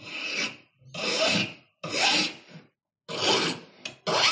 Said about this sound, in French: je vais reprendre légèrement à la lime plus douce pour éviter les grosses stries de ma lime en grain zéro